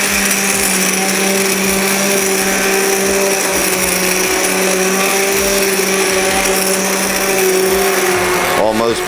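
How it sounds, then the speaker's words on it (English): A hand immersion blender pureeing potato soup whirs steadily at high speed, a constant whining motor tone with a low churning underneath, cutting off abruptly at the end. "Now this is a little hand portable immersion blender."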